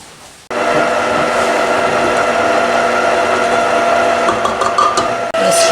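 Electric stand mixer running steadily on low while bread dough is worked with flour, a continuous close motor whir with a rhythmic churning undertone, starting after a brief quiet moment and cutting out near the end.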